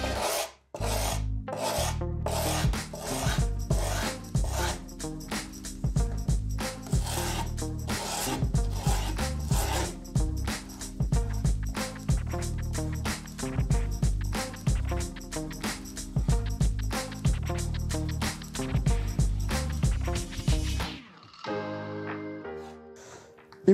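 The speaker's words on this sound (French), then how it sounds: "On met la planche devant soi et on vient limer vraiment tout le contour de la planche pour retirer le grain du grip." A file rasps along the edge of skateboard grip tape on a deck, trimming it in fast, rhythmic back-and-forth strokes that repeat for about twenty seconds before stopping.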